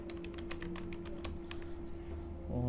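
Rapid keystrokes on a computer keyboard as a full name is typed into an online job application form, a quick irregular run of close clicks over a steady low hum.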